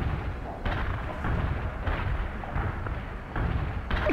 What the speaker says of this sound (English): A perfect artillery hit.